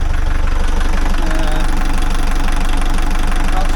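A narrowboat diesel engine idles just after servicing, a loud, close, even mechanical chug with rapid regular knocking pulses that holds steady throughout.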